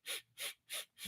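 Four sharp, airy sniffing gasps in an even rhythm during a breathwork exercise, close and fairly quiet, each a short burst of inhaled breath with brief pauses between, no talking.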